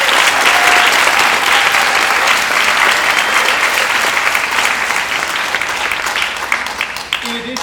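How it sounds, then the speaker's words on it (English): Sustained audience applause at a school chorus award night, a dense steady wash of clapping from a large crowd that holds strong and tapers slightly toward the end, with no talking over it. "Let's give them another round of applause."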